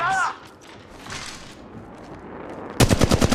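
Gunfire in Apex Legends Mobile, a rapid burst of loud automatic shots near the end after a stretch of muffled game noise and a brief voice at the start.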